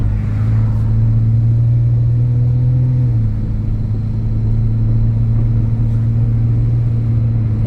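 A 2009 Ford Edge engine runs at a steady, loud drone from inside the cabin as the SUV drives. A low rumble holds throughout, with a slight shift in pitch partway through.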